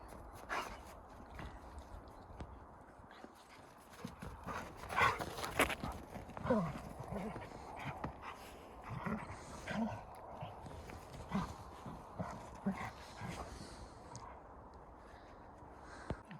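Wolves in a wolf park bark at another wolf in scattered, uneven bursts of barks and yelps at moderate distance, with rustling movement and faint voices in between.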